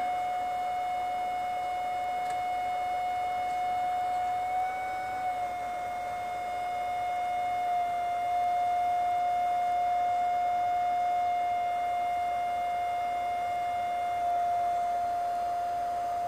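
A steady pure electronic tone from a Ten-Tec OMNI radio's CW sidetone holds a constant mid pitch near 700 Hz, shifting very slightly from 725 Hz partway through, with no voices.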